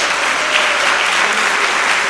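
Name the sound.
applause in a church service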